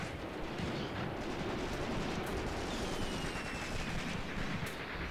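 Dense, continuous battlefield gunfire and artillery rumble from a tank engagement in Graviteam: Mius Front roll on without pause, a loud wash of distant shots and blasts.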